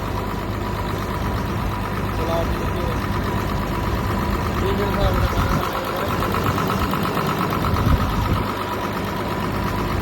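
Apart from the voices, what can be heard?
machine engine idling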